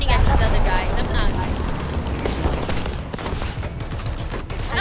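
Gunfire in the War Thunder video game comes as a dense rattle of rapid shots and booms, loud and close, layered with battlefield rumble while a player talks over it.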